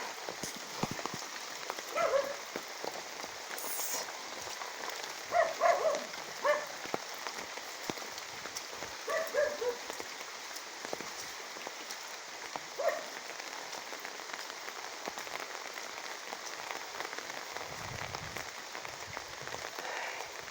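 Steady rain falls on a surface in a quiet outdoor setting, a soft continuous patter with scattered louder drops and a faint, distant dog bark now and then.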